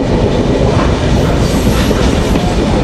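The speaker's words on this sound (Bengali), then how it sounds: "আমাদের বেনাপুল এক্সপ্রেস এখন তালমা রেলওয়ে স্টেশন থ্রু পাস দিচ্ছে" Benapole Express running through Talma railway station, heard from inside the carriage as a loud, steady rumble and rattle of wheels on track with a faint high squeal, no voices.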